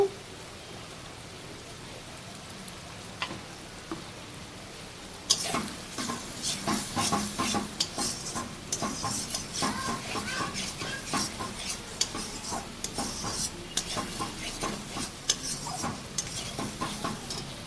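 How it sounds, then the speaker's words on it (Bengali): Spices fry in a pan for chickpea dal, seasoned with turmeric and salt, giving a steady sizzle with scraping stirring strokes; after a quiet start the frying grows louder and continues, close by. "মশলাটাকে ভালো করে ভেজে নেব।"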